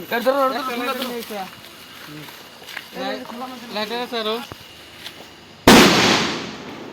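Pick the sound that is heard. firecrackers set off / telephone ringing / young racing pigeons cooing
firecrackers set off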